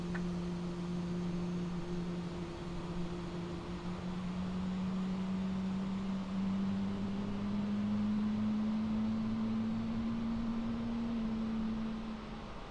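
Pratt & Whitney 1100G engines on an easyJet airliner spool up in a flight simulator: a steady whine slowly rises in pitch over a continuous low rumble, sustained and even, without talk.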